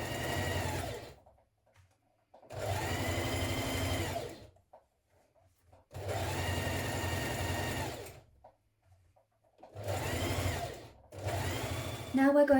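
A domestic sewing machine stitches the central back seam of a tunic top in four steady whirring bursts separated by short pauses, close and alone.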